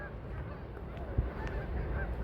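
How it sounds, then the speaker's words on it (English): Geese honk in an open field, a few short calls over a low outdoor background during a brief moment. "With all the geese."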